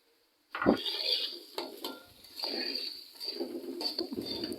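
Diced carrots go into a pan of frying potatoes in oil, a soft sizzle sitting under repeated clinks and scrapes of a spatula stirring against the metal pan.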